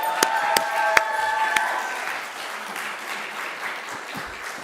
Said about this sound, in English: Another round of applause for all of the seniors.